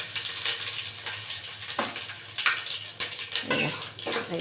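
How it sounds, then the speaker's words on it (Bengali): Whole spices, dried chili and radhuni crackle and sizzle in hot oil as a Bengali panch phoron tempering, a steady close fizz broken by sharper spattering bursts. "পাঁচ ফোড়ন শুকনো লঙ্কা রাঁধুনি ফোড়নে দিয়ে দিলাম"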